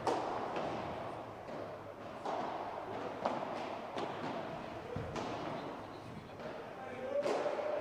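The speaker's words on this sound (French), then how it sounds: "cette balle complètement boisée qui m'échappe et qui part complètement dans la vitre" Padel match at a P500 tournament quarter-final: a ball mis-hit off the racket frame and into the glass wall, heard among several sharp thuds and knocks of ball and racket, with players talking over the rally.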